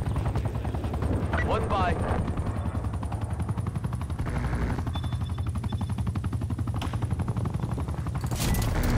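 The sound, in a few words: helicopter in video game Black Ops Cold War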